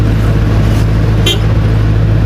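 Dense road traffic on a busy road in southern Palawan, a loud constant rumble of many vehicles close by, with a brief brighter passing sound midway and no speech.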